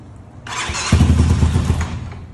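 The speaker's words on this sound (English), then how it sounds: "Let's start the bike up, guys." A Kawasaki KLX 300 dirt bike, freshly washed, is started up close: a whirring starter crank, then the engine catches into a loud, rapid, throbbing idle that continues steadily.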